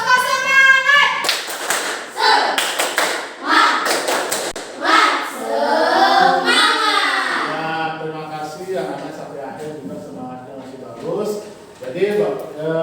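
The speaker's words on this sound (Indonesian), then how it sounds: "kita tepuk semangat dulu sekali ya" Pupils in a primary school classroom perform a rhythmic 'tepuk semangat' spirit clap, a loud patterned series of claps and thumps with children's chanting voices woven through, followed by an adult teacher talking.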